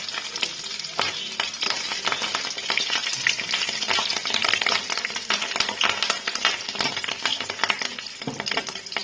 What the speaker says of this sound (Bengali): এবার মাছের ডিমগুলোকে আমি ভাজছি এই ডিমগুলো কিন্তু খুব ফাটে